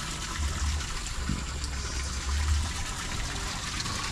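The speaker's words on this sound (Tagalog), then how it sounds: "Yan, lumalakas na rin yung pasok ng tubig" Water gushes steadily into a small backyard mini fishpond for tilapia, a constant rushing flow with low burbling, close and moderately loud, with no talking over it.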